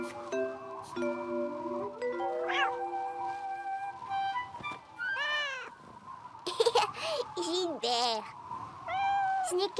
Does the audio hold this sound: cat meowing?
yes